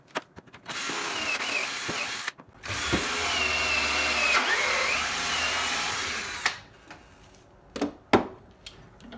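A power drill whirs in several bursts while drilling a wooden pen blank for woodturning, revving and stopping, with a long steady drilling stretch in the middle and short clicks and spurts afterward.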